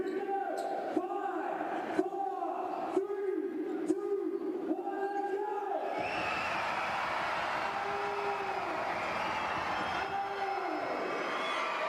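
Arena crowd at a FIBA Asia Cup qualifier basketball game between New Zealand and Chinese Taipei, steady roar and chanting with rhythmic stomps or claps during a technical delay, continuous and fairly distant.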